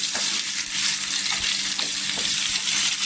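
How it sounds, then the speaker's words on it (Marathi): Potato pieces frying in a spoonful of oil in a pan on a gas stove, a dense steady hiss of sizzling with soft scraping stirs every half second or so, close and alone. "गॅसवर फ्राय पॅन ठेवलेला आहे. त्याच्यामध्ये 1 चमचा तेल टाकलेलं आहे. त्या तेलामध्ये आहे ना इथे बटाटा टाकायचा."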